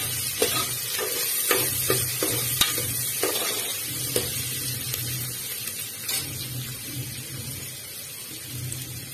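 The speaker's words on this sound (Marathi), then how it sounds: "सर्व एकजीव करून घेऊया सर्व परतून घेऊया" Dal khichdi with onions and potatoes being stirred and sautéed in a pot, a continuous soft sizzle under repeated scraping strokes of a spoon, close and steady throughout with no talking.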